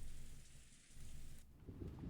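Steady rain in the Umineko visual novel game during a thunderous day at a vast mansion, a dense continuous hiss of rainfall that swells briefly after a short dip, alone with no voices.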